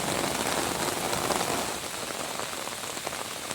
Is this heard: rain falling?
yes